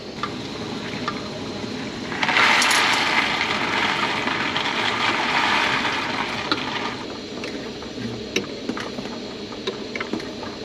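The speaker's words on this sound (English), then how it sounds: "our water is starting to boil" A steady rushing, bubbling roar of water heating in a pot inside a truck cap camper, swelling louder midway and then easing, with small clicks throughout.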